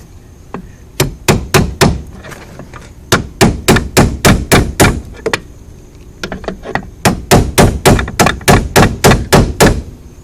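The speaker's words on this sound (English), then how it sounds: "Get a little pry bar and start hammering it out." A car steering column through bolt is hammered out with a pry bar in sharp, loud metallic strikes, delivered in three rapid bursts of roughly eight to ten blows each with brief pauses between.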